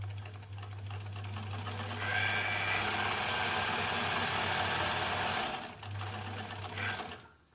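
An Elna Supermatic sewing machine stitches at a short stitch length, a close, steady mechanical whir and rapid needle clatter that drops briefly before resuming, with no talking.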